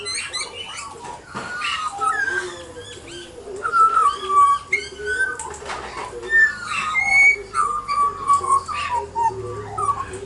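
Wild pied butcherbird and a young magpie call back and forth outdoors in Australia. Their clear, fluting whistles and warbles repeat close by at a fairly steady pace for the whole stretch.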